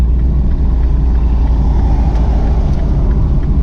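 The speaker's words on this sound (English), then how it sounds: "that car's muffler is kind of missing, or truck." Car or truck with a missing muffler, a loud, steady low rumble of the engine and exhaust droning continuously throughout, with no voices.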